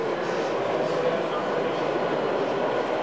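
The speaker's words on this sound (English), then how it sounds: "This view is our DCC train now coming down." An N scale DCC model train runs along a layout, giving a steady low rumble and soft rolling hum without a break.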